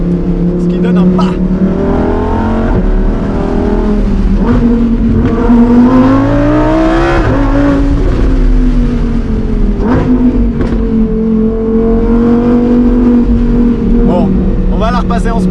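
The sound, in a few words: Lamborghini Huracan Performante engine revving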